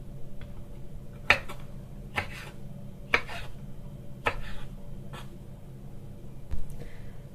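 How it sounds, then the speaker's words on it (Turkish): A knife cuts peppers for oily pickles on a board in a home kitchen, making six or seven sharp, separate knocks at irregular intervals over a quiet background. "Bu şekilde biberlerimizi bölüyorum."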